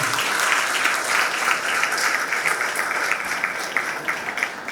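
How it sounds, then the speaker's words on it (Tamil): Audience applause at a college debate event: steady, dense clapping from a large crowd that fills the hall for several seconds at full loudness. "முனைவர் ஜெயந்தி அம்மா அவர்களை உங்களது கைத்தட்டலிலே அழைக்கிறேன்"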